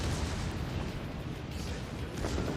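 Secondary guns on a warship fire in World of Warships Legends, a dense, continuous rumble of overlapping booms and bursts with no clear gaps, steady and loud throughout.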